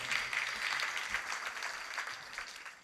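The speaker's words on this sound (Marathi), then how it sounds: "आज सगळे महाराजासाठी एकदा जोरदार टाळ्या वाजवा" Steady audience applause at a Marathi kirtan performance honouring the presiding maharaj, a continuous wash of clapping heard at a moderate distance and slowly easing off.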